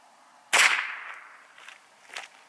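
A single sharp report from a .22 LR rifle firing an Aguila Subsonic Sniper round, a crisp close crack with a short fading tail and faint small noises afterward.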